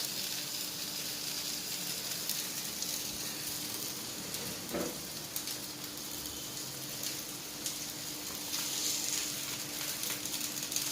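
Food sizzling steadily in a hot frying pan, a continuous close crackle and hiss that holds for the whole stretch with no talking.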